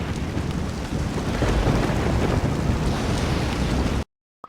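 Heavy rain and rumbling thunder from a LittleBigPlanet 3 storm effect, a dense, loud, steady downpour that cuts off abruptly near the end.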